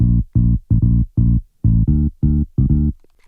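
A bass guitar sample run through a Sound Goodizer multiband compressor repeats a bouncy pattern of eight punchy, fuller notes with tight gaps, louder and beefier, alone in a house-style loop.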